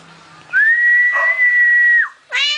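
A person whistles one long, steady sustained note lasting about a second and a half, loud and close, followed by a short rising whistled phrase after a brief pause.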